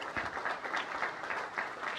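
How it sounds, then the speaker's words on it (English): Applause from a convention audience greeting a reappointed territorial deputy, a steady wash of clapping hands throughout at moderate distance, evenly sustained. "a round of applause."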